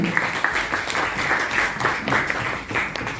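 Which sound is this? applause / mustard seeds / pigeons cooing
applause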